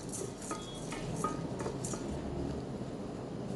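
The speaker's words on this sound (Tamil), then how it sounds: "இதை வெறும் பேனில் வறுத்துக்கணும்." Roasted gram (pottukadalai) being dry-roasted in an empty pan for somas: faint scraping and light clinks of a spoon against the metal over a low steady background, with no sizzle and no talking.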